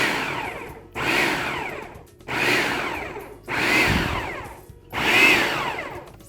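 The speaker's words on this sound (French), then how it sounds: "mettre la farine, l'eau et le sel dans un robot culinaire et le mélanger jusqu'à temps que ça forme une belle pâte" A food processor mixes flour, water and salt into dough in five loud whirring bursts of about a second each, separated by short pauses.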